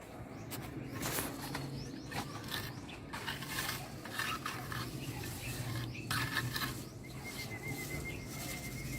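Stirring a mixture by hand, a steady scraping and swishing that runs continuously at close range, with irregular clinks and soft splashes and faint bird calls in the background.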